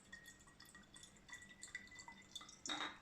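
Apple cider vinegar poured into a container at a table, heard as quiet scattered drips and small liquid splashes, ending in a louder, brief pouring gush near the end.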